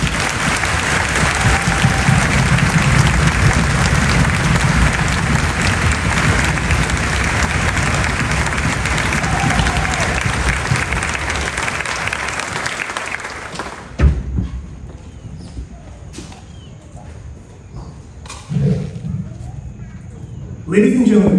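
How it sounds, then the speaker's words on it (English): Audience applauding soldiers at an army graduation ceremony, a sustained loud wave of clapping that stops abruptly, followed by scattered thumps and quieter room sounds. "please join us in giving these fine soldiers a round of applause"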